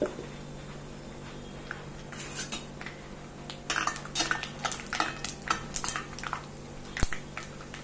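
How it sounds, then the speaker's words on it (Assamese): Peanuts are fried in hot oil in a pan, with utensil scrapes and clinks on the metal and a soft crackle that builds into a busy run of stirring sounds, ending in a sharp knock. "বাদামখিনিও ভাজি ল'ম"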